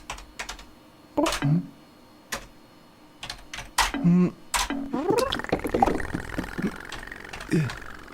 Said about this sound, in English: Simon is typing on the computer.